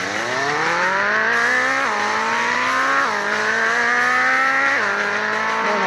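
A car drifts with its tires skidding and squealing in long, loud rising and falling wails, the engine revving repeatedly underneath, with no voices.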